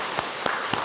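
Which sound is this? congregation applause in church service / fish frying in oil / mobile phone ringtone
congregation applause in church service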